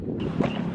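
Wind gusts outdoors roar against the microphone in a short, fairly loud rush of buffeting noise.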